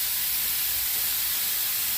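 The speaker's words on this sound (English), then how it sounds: "just let my vegetables steam a little bit" Vegetables steaming in a pan after a splash of water is added, giving a steady, close, bright hiss and sizzle that holds evenly throughout with no breaks.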